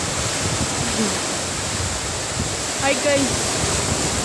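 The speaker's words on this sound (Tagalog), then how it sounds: "Tingnan nyo yung dagat. Sobrang ganda." Steady broadband roar of sea waves at a provincial beach, a continuous surf wash filling the background while a person briefly greets viewers and a few faint calls sound in the middle distance.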